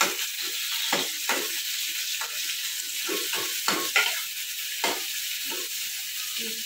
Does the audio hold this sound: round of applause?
no